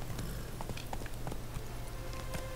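Rhythmic hooves of a horse clip-clopping in The Witcher 3, evenly paced footfalls over a steady low background drone, moderately loud with no talk.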